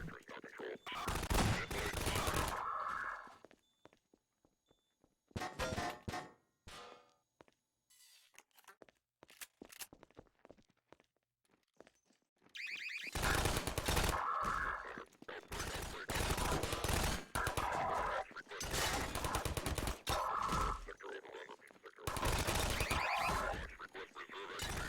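Video game turret gunfire in Fallout vault combat, dense bursts of rattling shots in several loud clusters separated by quiet gaps.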